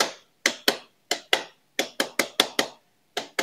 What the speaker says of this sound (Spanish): Nos podemos servir de un martillo de goma para no dañar la pintura ni nada de eso.